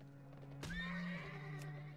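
A horse mount in World of Warcraft gives a single loud, close whinny with a sharp start and wavering tone, alongside a faint clip-clop of hooves and a steady tonal hum.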